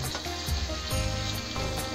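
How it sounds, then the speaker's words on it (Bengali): Flat beans fry in hot oil, giving a close, continuous hissing sizzle over a couple of seconds. "সিম কটা আমি আগে ভেজে নিচ্ছি"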